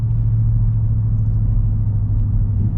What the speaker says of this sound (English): I love that V8 sound